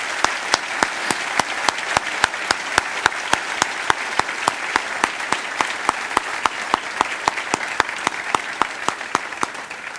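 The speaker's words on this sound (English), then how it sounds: "I wish you'd all give them a round of applause." Audience applause at a gubernatorial debate, steady dense clapping with sharper individual claps standing out, filling the room evenly throughout without any talk.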